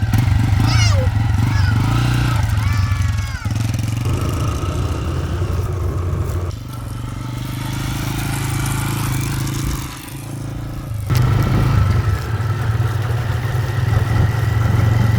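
A homemade motorcycle driven by a gate chain rides along in third gear, a loud close engine drone that dips and surges through gear changes, with someone talking over it.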